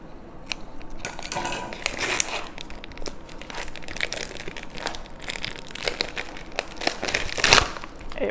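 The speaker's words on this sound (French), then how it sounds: "je vais couper le petit emballage du mozzarella" A mozzarella cheese wrapper is cut open, producing close, irregular plastic crinkling and crackling with sharper snips and rustles scattered across the stretch, loudest near the end.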